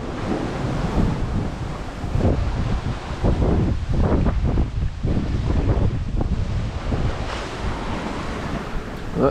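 Ocean waves roll and churn continuously around a sailboat offshore, thick with rushing wind noise buffeting the microphone, loud and steady throughout with no voices.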